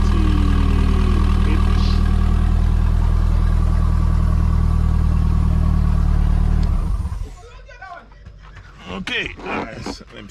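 A running car engine, gearbox not yet oiled, holds a loud, steady idle before being switched off, after which a few faint clicks and rustles follow.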